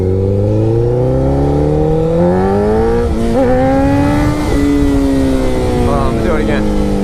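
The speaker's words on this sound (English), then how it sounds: "you let off the gas, and then you crack the throttle again, and to pop the front end up" A motorcycle engine runs loud and close while the throttle is cracked to lift the front wheel into a wheelie. The revs swell and climb in pitch through the middle, then hold at a strong, steady roar.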